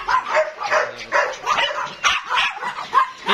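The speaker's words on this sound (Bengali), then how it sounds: "আমাদের কিউটি ডগগুলো খেলাধুলা করতেছে" Several dogs and puppies bark and yip in quick, overlapping bursts while playing at a dog house, close by and fairly loud throughout.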